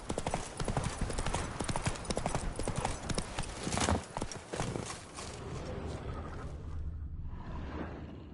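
Roach the horse's hooves clip-clop in rhythmic, steady footfalls in The Witcher 3, with rushing movement and game ambience around them, fading into a quieter low rumble at the end.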